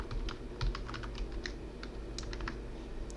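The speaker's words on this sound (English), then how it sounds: "Here you type the master password that you typed before." Password being typed on a computer keyboard, a close run of quiet irregular key clicks with no voices.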